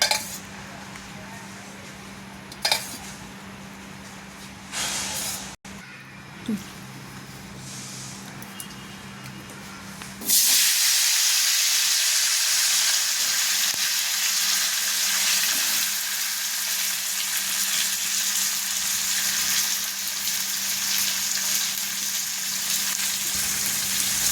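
Tomato and onion frying in ghee, preceded by a few clinks and stirring knocks in a pan, then a loud, steady, close sizzle that continues to the end.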